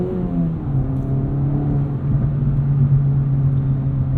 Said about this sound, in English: You get some good turbo noises too with this thing.